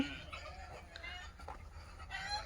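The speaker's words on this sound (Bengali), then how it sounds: "এখানে আছে মুরগি।" Chickens cluck softly in a coop on a duck and chicken farm in Jeddah, with faint scattered calls over low background noise and no voices.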